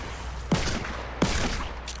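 Two sharp gunshots from the video game Outbreak, spaced under a second apart, each with a short decaying tail, loud and close over a low steady background hum.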